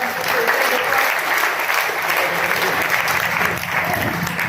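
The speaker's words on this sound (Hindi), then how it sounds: "तो एक बार ताली बजा दो।" Clapping from an audience at a business talk, loud and continuous, a steady dense patter of many hands close by without pause.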